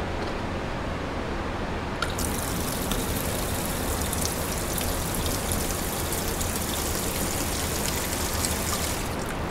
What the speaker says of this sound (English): put 12 volts on, and we'll let this part of the line flush out as well